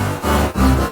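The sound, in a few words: warbly distorted synth in beat production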